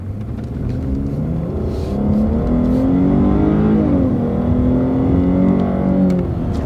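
A muscle car with a smooth-shifting 8-speed transmission pulls away from a stoplight, its engine droning up through a gear change with a steady, rising note heard from inside the cabin.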